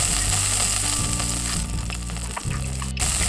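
Meat sizzling on a grill in the Yakiniku Simulator cooking game, a steady loud frying hiss that runs continuously with a low background hum and no talking.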